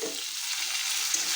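Potato pieces seasoned with salt and freshly added ridge gourd fry in a pan for a fish roe dish, giving a steady, close, even sizzling hiss throughout with no talking.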